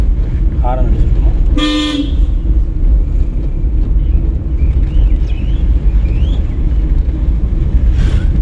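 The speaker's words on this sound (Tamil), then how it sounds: "ஹாரன் அடிச்சுக்கணும்" A single car horn toot sounds briefly from a driving-school car over a steady engine rumble, with faint voices and other distant horns in the background.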